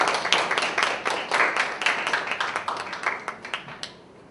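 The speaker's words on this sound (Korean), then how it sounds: "박수로 맞이해 주시기 바랍니다." An audience claps together in steady applause, a dense patter of hands that fades out near the end.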